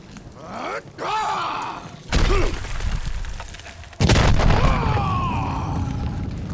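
A stone sculpture toppled by Drax in Marvel's Guardians of the Galaxy game, heavy booming crashes and rumbling impacts in two loud bursts, with character voices and grunts over the din.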